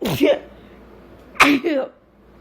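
Two quick, close sneezes about a second apart, each a sharp burst with a breathy tail, during gameplay with no words spoken.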